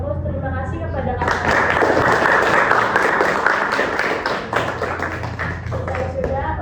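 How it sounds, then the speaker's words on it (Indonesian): An audience at an Indonesian talk show applauds a guest, a dense burst of clapping that starts after a moment, swells loudly and then tapers off, with a voice speaking before it starts. "Mungkin kita beri aplaus terima kasih kepada Kak."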